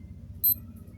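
A single short, high-pitched electronic beep from a Lasika WF 7005 digital wristwatch, faint and close in an otherwise quiet room with a low background hum.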